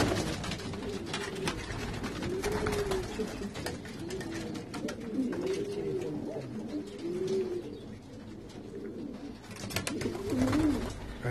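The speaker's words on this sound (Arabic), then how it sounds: "ندخلكم معايا دابا تشوفوا الحمام ديال الفواياجور" Homing pigeons in a loft in Casablanca, several birds giving soft repeated cooing calls over a steady background of rustling and faint clatter, close by, with no talking.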